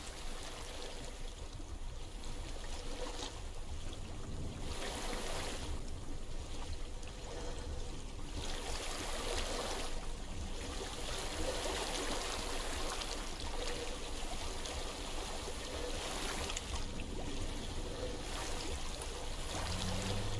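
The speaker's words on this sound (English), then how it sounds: "I hear water." A flowing stream in Hellblade: Senua's Sacrifice, a steady broadband rush of water that stays even and continuous throughout, with no voices over it.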